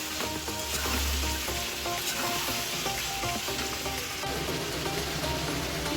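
A vegetarian cucumber curry with soaked raw chickpeas fries hard in a pan, giving a dense, loud, continuous sizzle with a busy crackle and faint stirring underneath.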